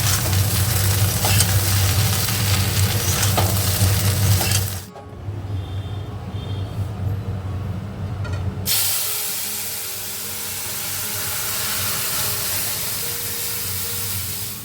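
Okra and potatoes fry with poppy seeds in a pan, giving a steady hiss and sizzle that drops away for a few seconds midway, then returns softer and even.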